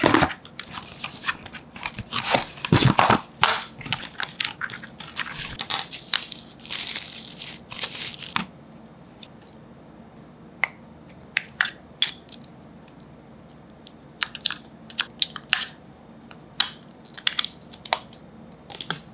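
Packaging of a laser distance measure crinkles and crackles as it is unboxed up close, with dense rustling at first, then sparse clicks and crinkles with quiet gaps, no talking.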